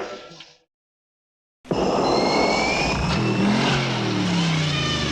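Loud, close engine of the Mad Max Interceptor, a supercharged nitro V8 with a blower rated at 600 horsepower, bursting in after a short silence and holding a steady, dense roar with whining overtones.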